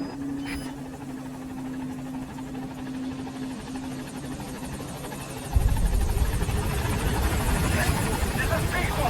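Pequod support helicopter from Metal Gear Solid V: The Phantom Pain arriving at a landing zone, a steady rotor drone and engine whine that swells louder and nearer about halfway through, with a radio voice heard over it.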